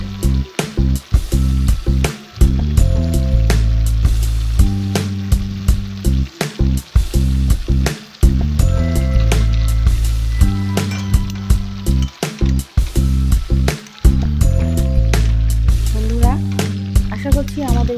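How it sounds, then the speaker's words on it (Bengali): Kathal chingri masala, a jackfruit and prawn curry with coriander powder, salt and a little sugar, sautéing in a pan. A steady sizzle and stirring run throughout under loud, continuous music. "ধনে গুঁড়ো, স্বাদ মতো নুন আর অল্প পরিমাণ মিষ্টি দিয়ে ভালো করে মিশিয়ে কিছু সময় এটাকে কষে নিব।"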